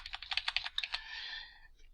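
A quick run of soft, crisp clicks from a computer keyboard's arrow key being tapped, about ten close taps in a row and then a brief fading tone, quiet and alone.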